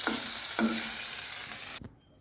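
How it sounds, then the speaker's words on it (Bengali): Food frying in a pan in a home kitchen ahead of a birthday meal, including coconut fritters, a steady close sizzle with two short stirring scrapes before it cuts to near silence. "এই দেখো, আমাদের ভাজা কমপ্লিট।"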